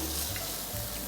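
Seafood for a platter fries in a pan with a steady, close sizzle that holds at an even level throughout and has no talk over it.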